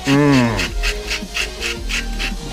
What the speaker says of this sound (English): I had a bag of pink Himalayan. And it's pretty coarse. And I had an extra one of these grinders